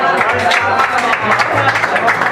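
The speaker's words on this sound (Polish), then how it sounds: "Brawa!" Applause from a gathering of seniors opening their new senior club room in Dygowo municipality, steady dense clapping across the whole stretch with a voice talking over it.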